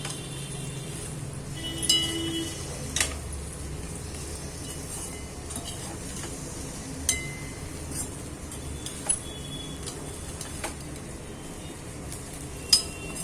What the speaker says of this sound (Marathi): आता आपल्याला हे व्यवस्थित हलवून घ्यायचंय।